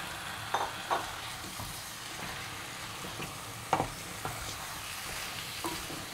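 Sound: desi chicken added to a pan, frying and being stirred

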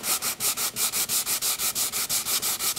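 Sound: hand sanding a wooden box with a sanding block

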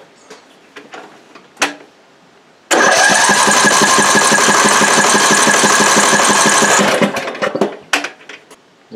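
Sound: Briggs & Stratton 18.5 hp overhead valve engine cranking, compression test

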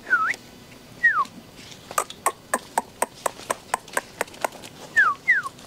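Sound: male rottweiler puppy whimpering

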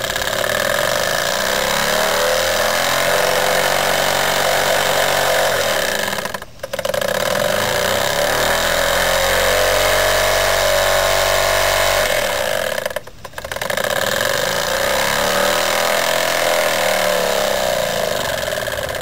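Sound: Jensen 25 model steam engine running slowly

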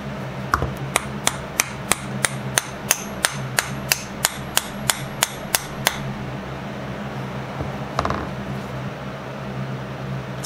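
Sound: hammering a wedge into a desert ironwood hammer handle

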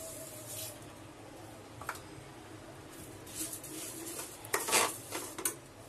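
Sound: half cup sugar added and stirred into barfi mixture in pan

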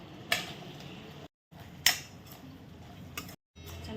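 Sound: stir-frying paneer chilli with spring onion and coriander

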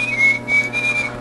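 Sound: whistle sound effect on Nintendo DSi

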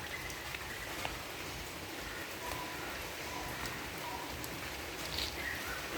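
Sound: heavy rain

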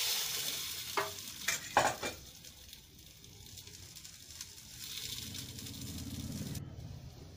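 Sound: frying potato chips in oil

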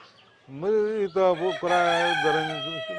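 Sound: American Brahma chickens on a poultry farm

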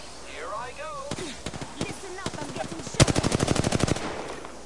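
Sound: gunfire in the video game Apex Legends

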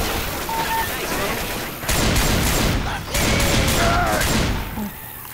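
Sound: gunfire in video game Left 4 Dead 2

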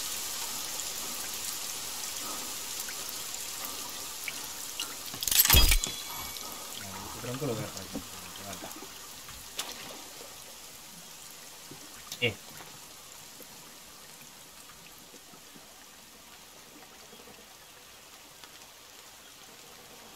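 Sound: heavy rain in the video game The Forest

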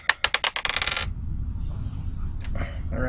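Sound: shuffling a pack of football trading cards

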